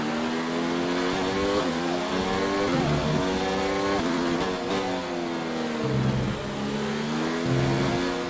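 An F1 race car engine in the video game F1 2019 screams at high revs on the final lap of the German Grand Prix, a steady, loud whine that shifts pitch through gear changes with no pause.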